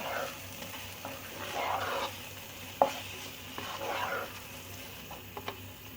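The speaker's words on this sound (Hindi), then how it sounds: "बादाम का पाउडर डाल देंगे, अच्छी तरह मिक्स करेंगे" Almond powder being stirred into badam halwa in a pan, soft scraping stir strokes in a few bursts with a sharp clink of the spoon and faint background sizzle, close by and fairly quiet.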